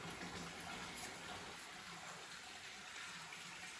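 Water flows steadily near a temple entrance, a faint continuous gushing rush like a tap or spout running, without pause for the whole stretch.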